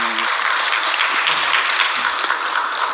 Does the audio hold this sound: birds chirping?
no